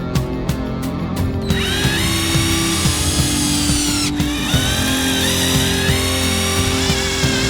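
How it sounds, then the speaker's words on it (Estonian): Loud whine of a cordless drill driving screws to fasten a cut pallet piece onto the rest of the wooden pallet, one long continuous run with a brief pause and change in pitch midway, close up. "kinnitan ära lõigatud tüki kaubaaluse ülejäänud osa külge ja kruvin selle külge"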